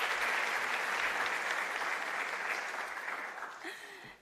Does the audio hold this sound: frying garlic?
no